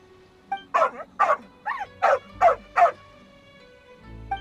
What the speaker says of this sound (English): Oh, alright, there's a good dog.